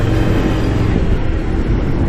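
Motorcycle engine roars loudly and close as the rider overtakes a sand-hauling truck on a sandy road, a dense continuous drone of engine and wind noise with no voices.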